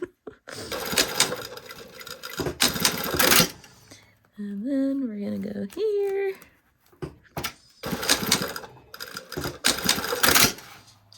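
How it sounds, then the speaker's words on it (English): A sewing machine stitches a pocket down to zipper tape in quick mechanical bursts, several runs of rapid clattering separated by pauses, while a person speaks briefly between them. "I'm just going to sew this one down to this side of the zipper tape and this one down to the other side of the zipper tape"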